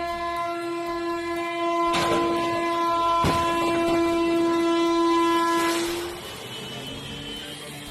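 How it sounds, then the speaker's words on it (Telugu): A train at a level crossing sounds a long, loud, steady horn while sharp bangs burst out twice as it strikes a lorry, before the horn cuts off and rumbling noise trails away. "లారీని గుద్దుకుంటా పోయింది కదా రైలు బండి."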